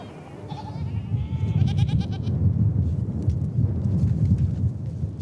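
Goats and sheep bleat at a spring in the Gobi Desert of Mongolia, a few clear calls over a steady, rumbling outdoor backdrop.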